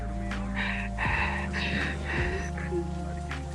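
Heavy, panicked breathing from a frightened person, a run of loud gasping breaths and snorts close by, over a steady low hum from a mechanical setting.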